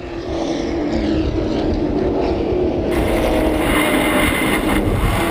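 Southwest Super Late Model stock cars racing at Willow Springs Raceway, a loud continuous engine roar that swells as cars pass close by, with no talk over it.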